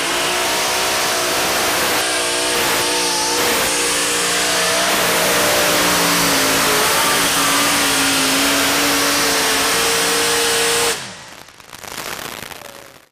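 A heavy modified tractor powered by three engines roars loud and close at a tractor pull, holding a sustained, gritty wail with shifting pitch before it drops off sharply to a lower, fading rumble.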